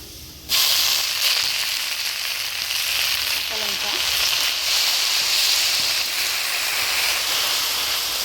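Whole red amaranth leaves drop into a pan of frying papaya, bursting into a loud, steady sizzle and hiss that runs on throughout.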